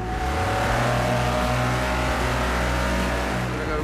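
A 1960s vintage car's engine revs at the Goodwood Festival of Speed, loud and close, its strong throaty tone rising and holding steadily for a few seconds.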